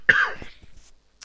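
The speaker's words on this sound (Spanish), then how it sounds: "Un ataque de tos ahora, horrible." A short burst of harsh coughing from a single person during a live maths lecture on numerical integration, loud at first and then trailing into weaker hacks, with one faint sound near the end.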